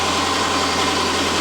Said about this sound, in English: So now the vehicle is warming up, we can check for leaks